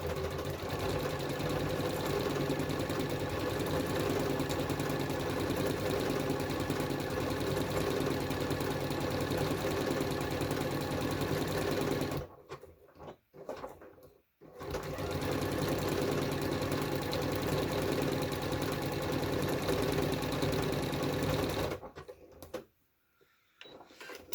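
A sewing machine stitches heart decorations onto a round bag made from placemats, running in a steady rapid whir with two brief pauses where the motor stops.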